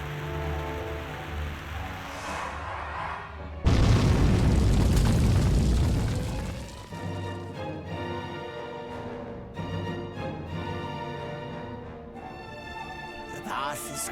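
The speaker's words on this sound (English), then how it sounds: "That's a bomb!" A bomb blast from the Dragon Quest III remake, bursting suddenly into a loud, roaring rumble that lasts a few seconds and then fades back into chiming game music.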